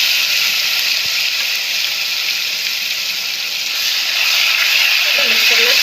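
Ginger-chili paste tempered in hot oil with mustard seeds, cumin, asafoetida, curry leaves and dried red chili gives a loud, steady hiss and sizzle that fills the whole stretch, close by with no talk over it.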